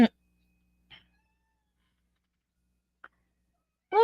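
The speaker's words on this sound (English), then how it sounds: "You made her meow." A short, clear cat meow opens, followed by a few faint chirps and a last meow, separated by near silence.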